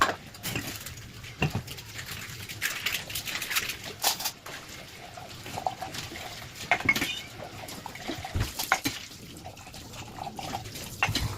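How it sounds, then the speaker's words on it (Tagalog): Dishes being washed in a home kitchen under a strongly running tap, water splashing and trickling steadily with occasional clinks of cups and cutlery, close and fairly loud throughout. "Eto nga at natapos na rin ako sa mga urungin."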